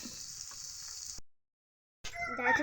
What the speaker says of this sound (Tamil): அதை ஃப்ரை பண்ணிக்கிட்டு இருக்காங்க